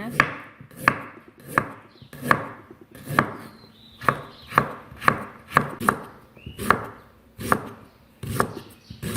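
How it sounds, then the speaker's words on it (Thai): Steady rhythmic knife chops slicing ginger into rounds on a cutting board, about a dozen crisp strikes, close and evenly spaced. "หลังจากนั้นขิงเราหั่นเป็นแว่นๆนะคะ"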